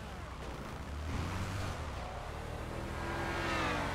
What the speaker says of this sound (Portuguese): barulho do meu carro, hein?